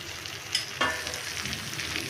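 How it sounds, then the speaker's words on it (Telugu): Eggplant frying in butter in a pan, a steady close sizzle with a couple of faint stirring clicks, no voices. "ఇది కొంచెం వేగితే సరిపోతుంది అన్నమాట"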